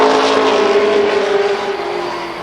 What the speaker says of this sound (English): We heard a little bit of misfiring there.